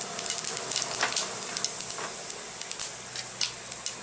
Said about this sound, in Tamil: எண்ணெய் சூடாச்சு, கொஞ்சமாக ஜீரகம் போட்டுக்கலாம்.